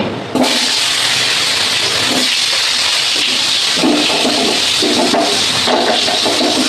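A loud, sudden burst of hissing sizzle as potatoes drop into hot oil with fried dried chillies, continuing as a steady crackling roar with faint stirring scrapes.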